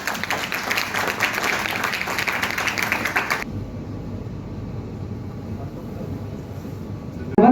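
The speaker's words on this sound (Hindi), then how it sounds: "जोरदार तालियां बज जाए भाई" Enthusiastic applause at a folk festival brochure launch in India, a dense burst of clapping for about three seconds that cuts off abruptly into a quieter hall murmur.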